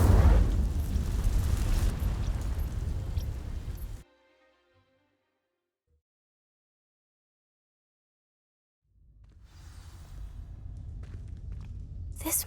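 Incendio fire spell igniting dry vines in Hogwarts Legacy: a loud, dense roaring burst of flame for about four seconds, cutting to near silence, then a softer crackling fire sound swelling back in.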